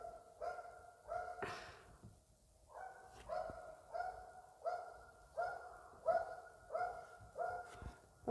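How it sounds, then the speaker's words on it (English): A dog barks repeatedly at a steady, regular pace, each bark sharp and clear, sounding somewhat distant and fairly faint, with no talking. "Did you guys hear that dog?"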